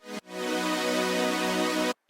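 A super saw synth patch built in Serum holds one sustained, bright, buzzy chord for about two seconds, dense with stacked harmonics, after a brief clipped note at the start; no talking.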